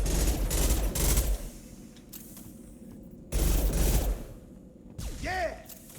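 Gunfire in Mass Effect 2 comes in two loud bursts of rapid shots separated by a quieter lull, followed by a rising whining sweep near the end.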